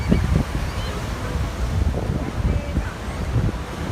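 Strong, gusty storm wind at the seashore of Laem Mae Phim, roaring and buffeting the microphone in a low, continuous rumble with possible surf underneath.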